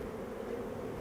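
Honeybees from around fifty hives near wild anise, sage and buckwheat give off a steady, dense drone. The close swarm hum fills the air evenly with no pauses.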